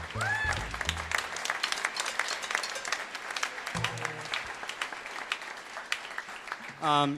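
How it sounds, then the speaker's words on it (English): An audience at a high school jazz band café concert gives a steady round of applause for a helper, dense clapping that carries throughout, with a voice speaking over it at the start and again at the end. "Give her a round of applause."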